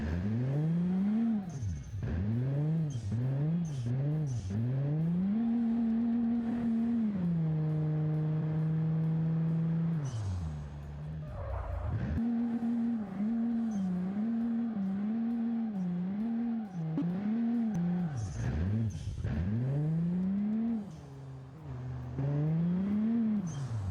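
A Ford EcoBoost Bronco's engine in BeamNG Drive revs up and down repeatedly in close, clear swells, with a few short pauses and one longer held pitch in between.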